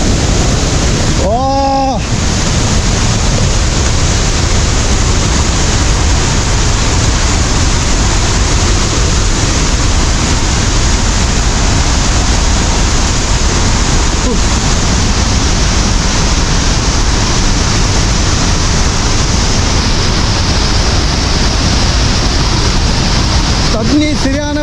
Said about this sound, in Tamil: வேறு லெவலில் இருக்குங்க இந்த வாட்டர் ஃபால்ஸ்ப்பா